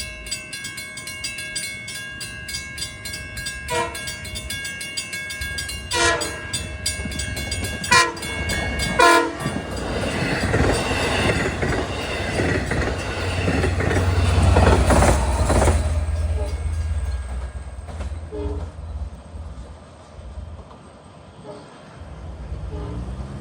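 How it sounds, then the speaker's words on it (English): Long Island Rail Road Silverliner 4 train sounding its horn on the Montauk Branch east of Babylon, a series of loud sustained blasts over the rumble of the passing train, ending in fading rolling noise. "Somehow the Silverliner 4s have come to Long Island with these horns."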